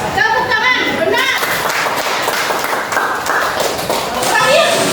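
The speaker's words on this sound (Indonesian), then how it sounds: "Tepuk tangan, benar" A school class claps in short bursts of sharp, close hand claps while a teacher talks over them and children's voices mix in.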